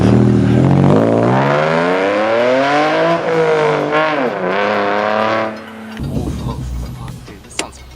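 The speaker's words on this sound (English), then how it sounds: "they're just a really loud exhaust." A new car with a loud exhaust accelerates hard, its engine note climbing through several rising revs before cutting off. A rougher, lower exhaust rumble follows, loud and close, with no talk over it.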